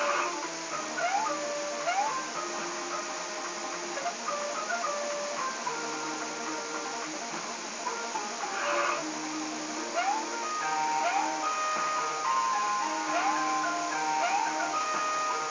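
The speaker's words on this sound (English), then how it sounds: "the music doesn't sound as clear as it does when playing on the original Super Nintendo." Tinny, chiptune-style Super Nintendo music from Mario is Missing plays with bouncy melodic notes and a thin, slightly muffled, distorted quality, less clear than on original hardware, running steadily throughout.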